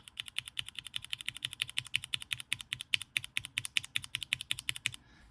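Rapid, steady clacking of mechanical keyboard switches, vintage MX Black or retooled Hyperglide, close and crisp, dozens of keystrokes in a quick even rhythm with no voices.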